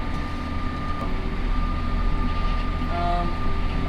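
A hay mower drones with a steady low rumble and a few faint tonal whines rising above it, making an unusual sound, running continuously with no talking.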